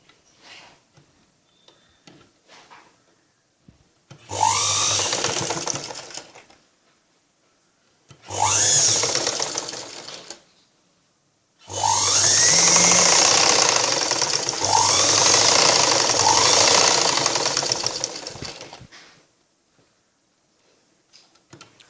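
A sewing machine stitches blouse fabric in three bursts, the last one long and steady, with near, loud mechanical whirring and short quiet pauses between runs.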